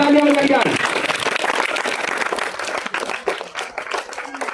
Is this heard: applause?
yes